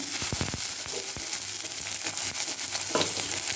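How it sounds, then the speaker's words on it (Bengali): Crushed ginger and garlic fry with chili, onion and five-spice seeds in hot oil, making a loud, steady sizzle with frequent sharp pops and spatters, close and with no voices. "ওই তেলের মধ্যে লঙ্কা পেঁয়াজ দিয়ে দিলাম"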